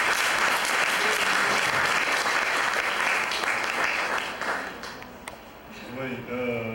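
A church congregation claps in sustained, dense applause that fills most of the stretch, easing off near the end as a few voices rise.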